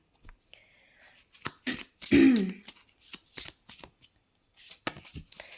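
Tarot cards being shuffled by hand, several brisk riffling and flicking bursts in an irregular rhythm, close and fairly loud, with no talking.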